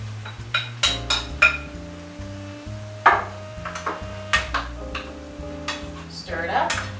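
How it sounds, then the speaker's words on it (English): Shrimp added to a pan of softened red and green peppers, onions and garlic, with repeated clinks and scrapes of a utensil against the pan over a low sizzle, close and fairly loud. "After both your red and green peppers, as well as your onions and garlic, have softened, go ahead and add your shrimp."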